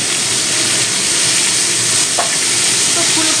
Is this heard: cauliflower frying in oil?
yes